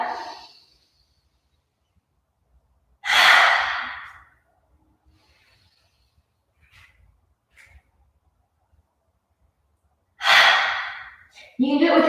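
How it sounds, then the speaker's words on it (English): Forceful breaths in a yoga-style breathing exercise: a few loud, rushing inhales and exhales spaced several seconds apart, close to the mic, with quiet pauses and faint soft sounds in between. "Inhale, arms out and up. And then exhale, just chop it away."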